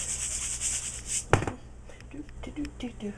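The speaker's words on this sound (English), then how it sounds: "and then kind of rub them around. Okay, get it nice and coated." Hands rub pepper, salt and paprika onto raw chicken pieces, a soft repeated scraping with one sharp knock partway through, and a voice talks alongside.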